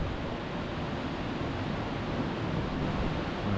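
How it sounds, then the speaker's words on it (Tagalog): Steady broad rushing noise of ocean surf at a beach in Boracay, Malay, Aklan, Philippines, continuous and fairly loud, with no voices. "Narinig niyo ba yung alon?"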